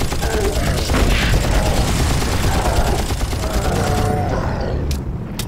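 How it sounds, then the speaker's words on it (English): Machine gun fire in the Far Cry video game, dense rapid bursts over a constant rumble of battle noise, loud and close, then thinning out near the end. "machine guns to the face"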